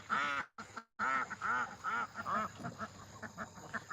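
Mallard ducks quack outdoors in a rapid run of close, nasal calls, a few louder honks at first and then quicker, softer quacks, with no talking.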